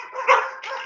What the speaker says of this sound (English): when he does that really loud belly bark, the whole neighborhood gets Baloo,